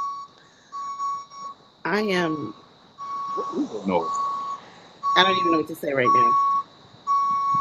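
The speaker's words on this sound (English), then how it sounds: "First a truck backed up and then peeled out on you." A reversing truck sounds a series of steady, evenly spaced electronic beeps at moderate loudness, running on beneath people talking.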